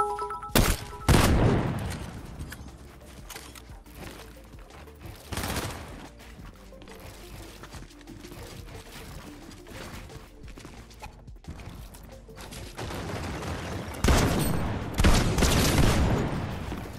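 Bursts of video game gunfire break out at intervals, loud rattling volleys separated by quieter stretches of clatter and ambient noise.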